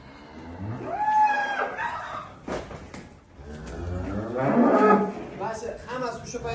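Cattle calves on a livestock farm moo several times close by, deep drawn-out lowing calls with short pauses between them, the loudest one near the end.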